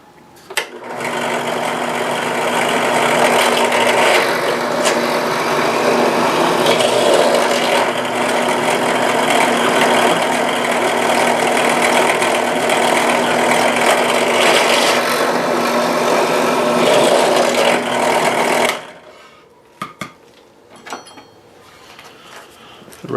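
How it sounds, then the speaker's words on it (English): A drill press grinds steadily into wood for nearly twenty seconds with a loud, rough whir, then stops, followed by a few light knocks and clicks. "Nice to break out the old drill press."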